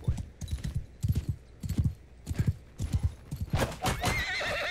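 A sumpter horse in the game Bannerlord gallops with steady, rhythmic hoofbeat clusters, loud and close, and ends with a loud drawn-out whinny over the last second.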